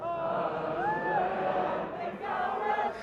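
A crowd gathered after the Catalan parliament's independence vote cheers and whoops in a dense, sustained roar, with individual voices rising in pitch above the steady mass of noise.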